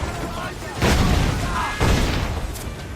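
Ship cannons fire during a naval battle in Assassin's Creed Black Flag, two heavy booming volleys about a second apart with crackling blasts over a continuous rumble, mixed with shouting crew voices.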